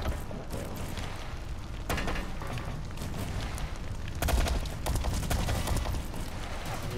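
Rapid bursts of gunfire in the first-person shooter Blacklight: Retribution, loud and close, with dense crackling volleys and sharper heavy shots breaking through around the middle.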